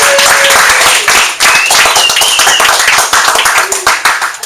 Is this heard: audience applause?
yes